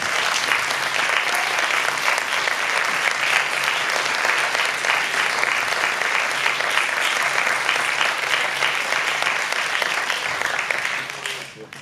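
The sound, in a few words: audience applause welcoming speaker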